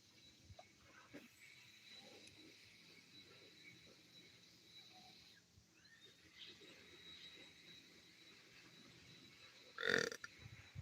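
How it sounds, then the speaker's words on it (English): A single short, loud burp comes near the end, after a long, quiet stretch of faint outdoor background at Fort George in Niagara-on-the-Lake. "Excuse my burp."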